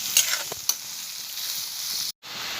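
Capsicum and onion fry in a pan for chilli chicken, a loud, steady sizzle with a few stirring scrapes and a brief break near the end.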